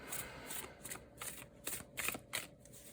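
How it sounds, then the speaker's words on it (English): Tarot cards being shuffled close up in quiet surroundings, a run of crisp riffling bursts and soft slaps repeating in an uneven rhythm, with no voices. "No, I'm going to shuffle for the next one."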